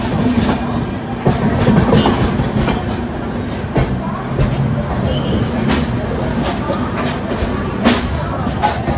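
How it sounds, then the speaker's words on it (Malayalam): The Aruna Express passenger train rolls into the Vijayawada station platform, a loud, close rumble with rhythmic clickety-clack of wheels over rail joints, and station voices murmur in the background. "11 മിനിറ്റ് ലേറ്റ് ആയിട്ടാണ് നമ്മുടെ അരുണ എക്സ്പ്രസ് ഇവിടെ കയറുന്നത്."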